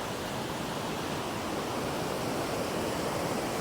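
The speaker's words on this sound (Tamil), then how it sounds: "செம்ம ஃப்ளோங்க, பயங்கரமாக தான் போகுது." Strong river current at Hogenakkal rushes in a dense, steady roar of water, broad and unbroken, heard from a moderate distance with no voices.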